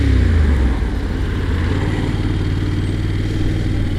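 A Honda NC750X motorcycle engine revs with a throaty, low-pitched rumble, a short burst of throttle up front settling into a steady pulsing drone, loud and close, with no talking.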